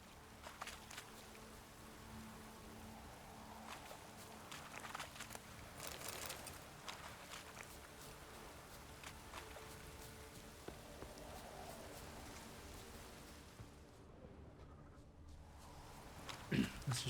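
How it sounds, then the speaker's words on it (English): Rain falls in the video game The Witcher 3 as a faint, steady patter and hiss throughout, quiet and even, with a few soft scattered knocks. "Looks like rain."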